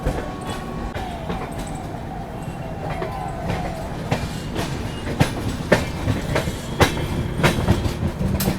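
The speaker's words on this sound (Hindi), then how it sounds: "अपनी मुंबई राजधानी निकल चुकी है न्यू दिल्ली रेलवे स्टेशन से।" The Mumbai Rajdhani Express pulls out of New Delhi railway station with a continuous rumble of rolling coaches, rhythmic clickety-clack of wheels over rail joints and brief metallic squeals, heard up close.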